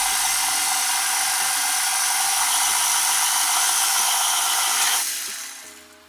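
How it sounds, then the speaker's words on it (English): An electric hand mixer whirs steadily as it beats egg yolks and vanilla into cookie dough, a loud, close, continuous high buzz that cuts off near the end, leaving a faint fading hum. "now give that a good mix until it's all silky and combined"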